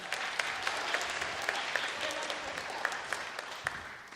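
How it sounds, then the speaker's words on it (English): Audience applause during a sponsor launch event at the State Library of Victoria, a steady wash of clapping from a seated crowd lasting several seconds, fairly even in level with a few sharper individual claps standing out. "give her a round of applause"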